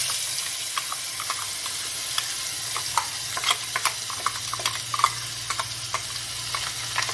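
Masala sizzles and fries in a pan with cinnamon, cardamom, cloves and bay leaf for a prawn malai curry, with steady hissing and scattered scraping stir clicks close by.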